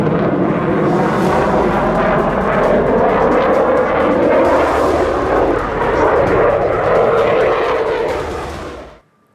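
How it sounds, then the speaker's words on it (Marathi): Fighter jets such as Rafale, Jaguar and Mirage pass over the Ganga Expressway, a loud sustained engine roar that swells and rumbles before cutting off abruptly. "आताच गंगा एक्सप्रेस वेवर लढाऊ विमानांचं नाईट लँडिंगही करण्यात आलंय. राफेल, जगवार, मिराज लढाऊ विमानांची हवाई प्रात्यक्षिकं पाहायला मिळाली"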